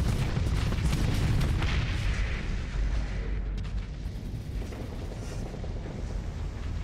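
Ship weapons firing and explosions in the space combat game Starsector, a continuous heavy rumble of booms and blasts, loud and dense at first, then easing slightly while still rolling on.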